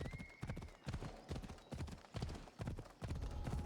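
Horse hooves clip-clop in a steady, fairly loud rhythm as a horse moves along in Assassin's Creed Odyssey, with regular strikes spaced about every half second.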